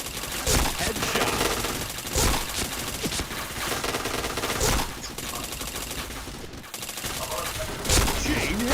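Rapid bursts of automatic gunfire rattle through a shooting video game match. The loud volleys repeat every second or two over dense background game noise.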